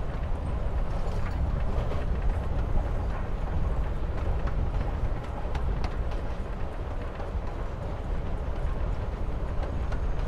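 A train ride in the video game Life Is Strange Before the Storm makes a steady, dense rumble with faint rhythmic clatter throughout, with no talking.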